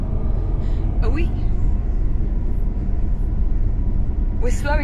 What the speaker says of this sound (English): The tram is on autopilot.